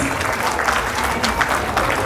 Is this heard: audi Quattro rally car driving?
no